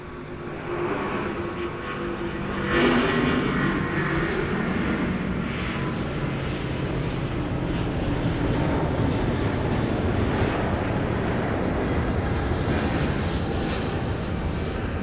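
An airliner comes in to land at Sydney Airport on a humid night, its engines making a continuous broadband roar that builds and sustains throughout, heard from a distance without any talk.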